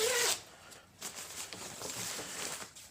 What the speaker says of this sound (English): It's got a decent zipper.